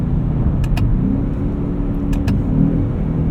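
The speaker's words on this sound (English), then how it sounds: "Good blips on downshift." 2024 Ford F-150 Raptor R engine blipping on paddle downshifts of its 10-speed while driving, a loud low rumble with two quick pairs of sharp rev flares over road noise.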